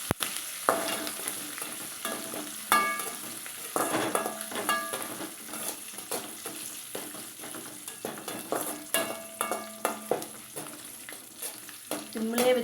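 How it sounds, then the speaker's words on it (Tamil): Mixture snack deep-frying in plenty of oil, a steady bright sizzle and bubbling with occasional stirring clinks and scrapes against the pan, continuous and close throughout. "நல்லா முறு முருன்னு ஈரப்பதம் இல்லாமல் பொறிச்சு எடுத்துக்கணுங்க நீங்கள்"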